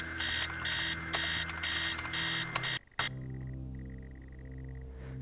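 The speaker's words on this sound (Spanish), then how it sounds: "de alguna forma la alarma se apaga" In the video game Stories Untold, an alarm clock rings in loud, pulsing electronic bursts over a low hum, then abruptly stops, leaving a steady drone and faint tones.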